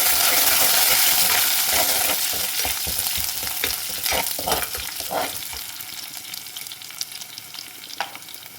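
Ginger, garlic and curry leaves sizzle and crackle in hot oil in a pan, with steady close frying noise and scraping stir strokes, the sizzle easing slightly toward the end with a few sharp clinks.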